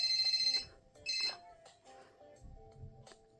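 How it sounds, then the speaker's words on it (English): A phone ringtone in a teen drama video game rings in two bright, repeating electronic bursts, followed by softer game sounds and low background music; no one speaks over it. "Now let me answer my phone."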